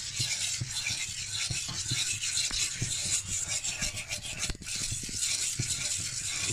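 A whisk scrapes steadily around a pan as a lasagne sauce thickens from a doughy mix to a creamy one. The scratchy rubbing continues without a break and sounds close.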